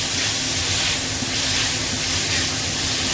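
Minced meat fries in a pan for mapo tofu, giving a steady, loud, dense sizzle and hiss that runs unbroken throughout with no voices over it.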